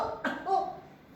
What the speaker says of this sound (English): Sometimes we don't sneeze, but we cough.